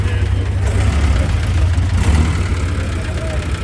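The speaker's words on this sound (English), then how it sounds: "No surprise there, old gasser fired right up." An old Ford Jubilee tractor's gasoline engine of about 30 horsepower runs at a steady, fairly loud idle at an outdoor auction, its low rumble continuous from start to finish.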